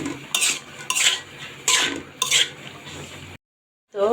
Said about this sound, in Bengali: এর মধ্যে দিয়ে দেবো এই যে পাতাকপিগুলা। তো দিয়ে সুন্দর করে এটা মাখাবো।